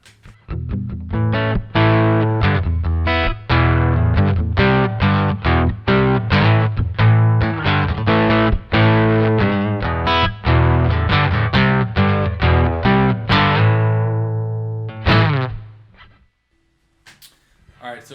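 Acoustic guitar pushed through a Fender Smolder Acoustic OD overdrive pedal with the distortion cranked, strummed chords with a gritty, saturated edge, steady and loud, ringing out at the end before silence.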